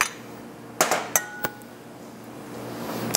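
Pieces of onion dropped into a glass jar of beet brine for pickled eggs, making three sharp, separate glassy clinks in a quiet room.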